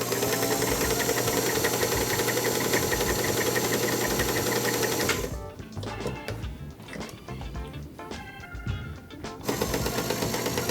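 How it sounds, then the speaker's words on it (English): A Singer Featherweight sewing machine stitches quilt pieces, running at a steady, close, continuous whir with a quieter, uneven stretch in the middle before returning to full speed. "I'm gonna sew this on."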